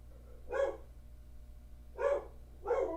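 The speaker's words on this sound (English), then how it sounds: "You might hear Max the dog" A dog barks three times, heard indoors at moderate distance: one bark, a pause of over a second, then two more in quicker succession, with no talk over them.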